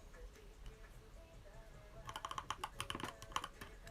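Gateron yellow linear keyboard switches clack in a quiet room, a faint irregular tapping that turns into a quick burst of sharper close keystrokes.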